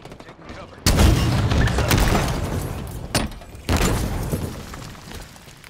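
Heavy rocket launcher blasts in the Halo Infinite team slayer multiplayer match, a sudden loud boom followed by two more explosive bursts a few seconds apart, each trailing into a rumbling, crackling decay.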